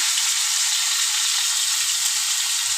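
Bitter gourd frying in hot oil with a cumin tempering, the base for a bitter gourd fish curry, gives a steady, close, bright sizzle that holds unbroken throughout with no voices.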